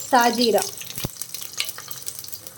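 Whole garam masala spices dropped into hot oil for a soya chunk biryani masala give a brief sizzle and stir, with a short voice at the start and a sharp knock in the middle, then a soft, steady crackle.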